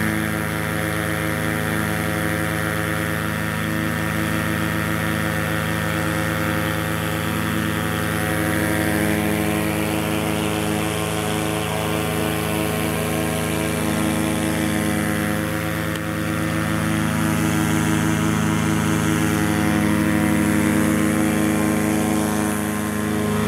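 Liquid mixing system running with 12 to 14 inch propellers in about 2,000 gallons of water, a loud continuous motor drone with a steady hum and churning noise, no talking.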